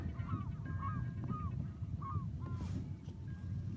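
Several geese honk in short, repeated calls, fairly distant, over a steady low rumble of wind or engine noise, heard from sea kayaks off the San Juan Islands.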